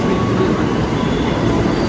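MRT metro train at a station, a steady loud rumble of the carriage with faint high tonal whine throughout, no pauses or distinct clacks.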